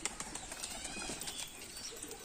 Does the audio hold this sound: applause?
no